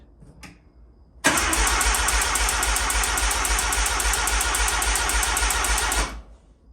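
A first-generation Mazda RX-7 with a swapped-in 13B rotary engine fires up cold after a brief click, then holds a loud, close, buzzing idle for several seconds before shutting off.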